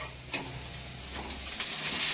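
Onions with curry leaves and green chillies frying in hot oil for a South Indian vada curry, a soft, steady sizzle with faint stirring scrapes, close and alone, no one talking.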